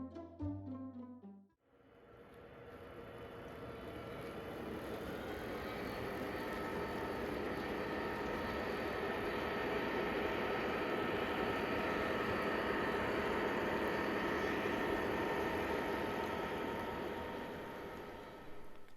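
An O-gauge model train runs around a layout loop with a steady mechanical rumble and whir. The sound swells in, holds for about fifteen seconds and then eases off. No one speaks.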